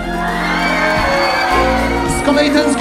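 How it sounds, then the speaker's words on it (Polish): Applause and cheering rise from the crowd at a 2024 harvest festival concert in Gmina Osiek Mały, a brief noisy burst with shouts, mixed with the band's lingering chords. "Wielkie brawa!"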